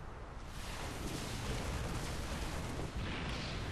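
A Terran Banshee air unit is shot down and destroyed during a StarCraft II TvT match, giving a loud, dense explosive burst and rumbling blast that fills the whole moment, with no voices over it.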